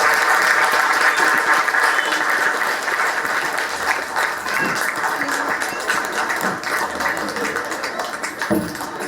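Audience clapping after a children's dance-drama at a Kannada Rajyotsava school event, sustained and fairly loud, a thick wash of many hands that thins slightly toward the end.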